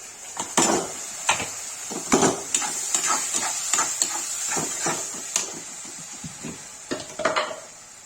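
Tomatoes going into a hot pan for a dhaba-style egg curry, sharp scraping and clanking stirring strokes with a light sizzle underneath, close and irregular, no talk.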